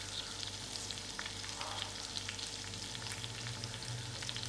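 Butter melts and sizzles quietly in a pan for a prawn and chicken curry, a faint, even crackling hiss with a low steady hum beneath and no voices.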